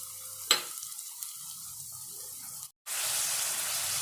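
Ginger garlic paste frying with roasted onions in a pan for a capsicum gravy, a steady close sizzle with a sharp crackle as the paste hits the oil, briefly cutting out before the hiss resumes louder.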